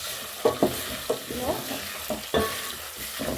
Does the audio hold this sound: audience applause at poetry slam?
no